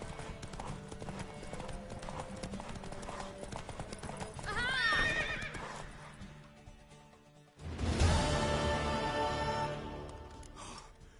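Horse hooves clip-clop in The Witcher 3, a steady trotting rhythm close by, with a whinny midway and a louder burst of hoofbeats and snorting afterward, game dialogue faintly underneath.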